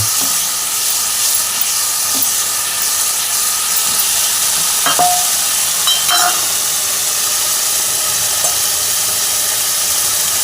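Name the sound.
shrimp being sautéed in spice paste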